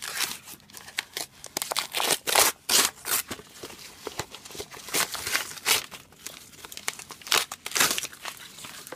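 A mailed media-mail package holding a book being torn and unwrapped, with loud bursts of crinkling paper and tearing in irregular clusters, close up and with no talk.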